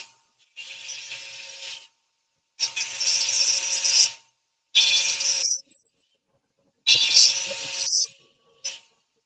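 Coarse 24-grit sandpaper scraped by hand across wood in four separate bursts of harsh, scratchy rubbing, each lasting a second or two with short pauses between.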